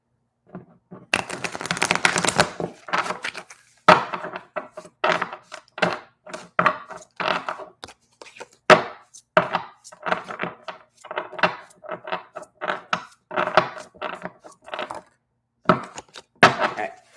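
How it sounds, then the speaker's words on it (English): Tarot cards shuffled by hand during a live yes/no reading, a long run of quick papery riffles and taps in irregular bursts, close and fairly loud with brief pauses. "Give these a good shuffle."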